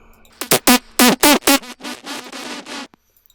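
A heavily processed wavetable synth with OTT compression, distortion and reverb plays a series of about ten bright, buzzy, vocal-like stabs, loud and punchy at first and then softer, ending in a brief reverb tail.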